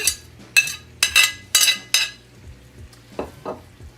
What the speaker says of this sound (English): I'm going to go ahead and add my potatoes and onions back in.